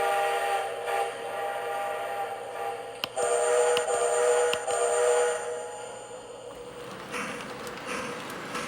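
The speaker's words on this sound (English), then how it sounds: "Sometimes when we blow our whistle, the ghost train of the old LONS will usually answer us" A Lionel LionChief Strasburg Railroad toy train set sounds its steam-style whistle, a sustained tonal blast with clicks and rattles mixed in, fading somewhat toward the end.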